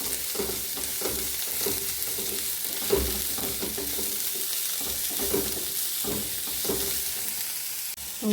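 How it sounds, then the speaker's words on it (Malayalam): Food being sautéed and stirred in a pan over full flame while making snake gourd thoren, a steady frying sizzle with repeated scraping stir strokes throughout, close and alone. "വഴറ്റിയെടുക്കുക. ഫ്ലെയിം ഫുള്ളിലാക്കുക."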